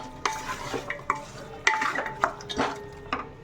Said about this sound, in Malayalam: ഇത് നമുക്കൊന്ന് നന്നായിട്ടൊന്ന് മിക്സ് ചെയ്ത് കൊടുക്കാം